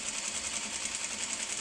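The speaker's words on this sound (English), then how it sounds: "So I sewed a couple of inches and now I'm realigning the rest." Sewing machine stitching quilt top sections together with a quarter-inch seam, a fast, even whirring rattle running close and steady with no pauses.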